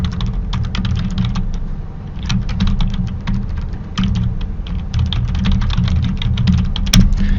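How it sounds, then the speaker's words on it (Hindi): Steady, rapid typing on a computer keyboard while a new file is being written on a Linux desktop, with dense clicking keystrokes in irregular bursts over a low background hum, close and fairly loud, with no talking. "अब न्यू फाइल के अंदर मैं कुछ टाइप करूंगा"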